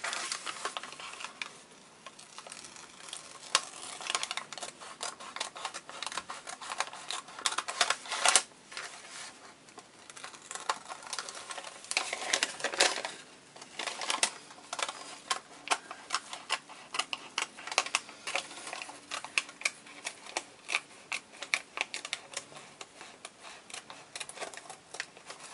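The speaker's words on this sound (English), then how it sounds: "So I'm going to cut out his hat." Scissors cutting out a gnome's hat, heard as a steady run of quick, close snipping clicks throughout with no talk.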